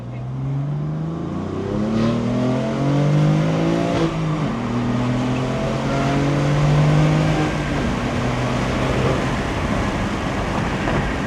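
A BMW F82 M4 running a Bootmod3 tune accelerates hard, its engine note climbing steadily in pitch through the gears, loud and close throughout with no talking.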